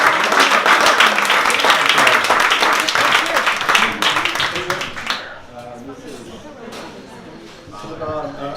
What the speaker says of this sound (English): So, welcome, please, with a nice warm round of applause, Thomas O'Leary.